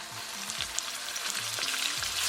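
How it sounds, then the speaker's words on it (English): Ginger, garlic and green chili paste frying in olive oil in a karahi gives a steady close sizzle, with a few faint stirring scrapes over the hiss. "Add ginger, garlic, and green chili paste."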